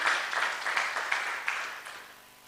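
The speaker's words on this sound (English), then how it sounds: "Let's give a more hearty clap for the CCM." An audience claps at a research festival event in Kenya, a modest round of hand claps that starts fairly strong and gradually fades out over a couple of seconds, with no voices on top.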